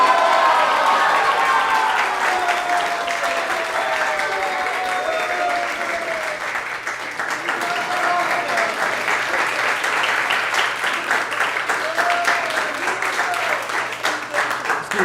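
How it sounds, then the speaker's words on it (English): A gathering applauds the participating devotees at a Krishna katha event, with sustained, energetic clapping and scattered voices and cheers rising through the crowd. "One more round of applause for all the devotees who participated"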